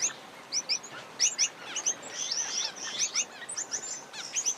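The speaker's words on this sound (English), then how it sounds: "Brightly coloured grass finches come in to drink every few hours." A flock of small Australian grass finches chirps and tweets in quick, overlapping bursts at a drinking spot, close by and lively, with no talking.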